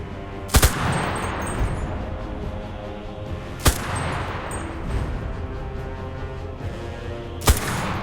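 Three sharp 9mm gunshots crack out one by one at a rifle range in the video game Enlisted, spaced about three seconds apart over a steady background drone.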